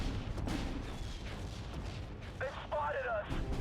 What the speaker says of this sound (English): let's say I wanted to mortar our own fellow man here